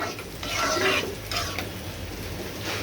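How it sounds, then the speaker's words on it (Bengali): Spice paste frying in hot oil for tempering a chickpea lentil dal, with a soft, steady sizzle and occasional stirring scrapes, fairly quiet and close, no voices. "ডালটায় আমি পেস্টটা তেলটা ভেজে বাগার দিয়ে নিচ্ছি"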